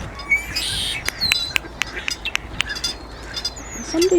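Blackbirds calling outdoors, a scatter of short sharp chirps and a few whistled notes over steady background noise, fairly close and clear.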